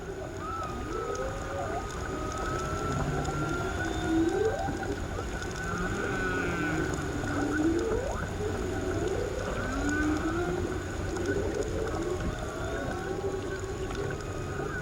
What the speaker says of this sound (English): if you get down deep enough, and, you know, quit bubbling and making your own noises, you can sometimes hear whales